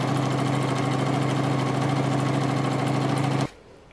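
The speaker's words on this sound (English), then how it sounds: "Now we're going to sew with 1 cm seam allowance at the edge of the first fold" A sewing machine stitches a seam on a pair of shorts, a loud, steady rapid motor rattle running continuously for several seconds before stopping abruptly.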